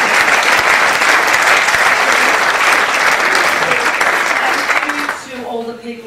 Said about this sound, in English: you should all give yourselves a big round of applause for being here today